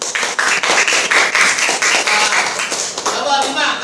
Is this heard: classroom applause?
yes